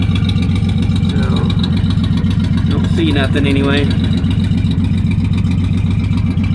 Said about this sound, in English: Sitting here idling just fine.